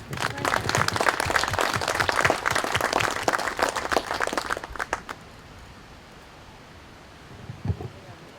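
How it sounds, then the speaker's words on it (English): A crowd applauds loudly for several seconds at a Memorial Day ceremony, then the clapping tapers off into quiet room tone. "I'd like to give that group a round of applause"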